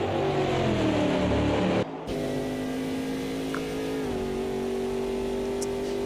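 Race car engine in a GT4 endurance racing video game at Interlagos, a loud, sustained high-pitched drone that holds steady in slipstream, briefly cut by a gear shift, then settles into a smooth, even note.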